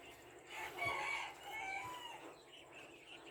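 Bantam chickens cluck and crow in a backyard coop, a rooster's drawn-out crow rising over scattered hen clucks at moderate distance, with no talking.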